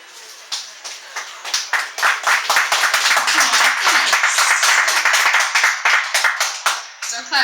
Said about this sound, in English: Don't clap too soon.